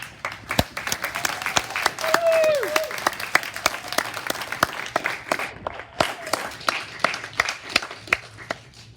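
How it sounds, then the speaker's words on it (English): Audience applause at a youth media summit, a steady mass of clapping for nine seconds with sharper individual claps on top and faint voices and cheers mixed in. "One more round of applause, please"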